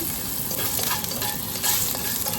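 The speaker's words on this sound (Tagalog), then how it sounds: "So, mag-add tayo ng kaunting oil. We're going to add our ginger." Ginger sizzles steadily in hot oil in a pan, a continuous close crackling hiss with faint stirring scrapes throughout.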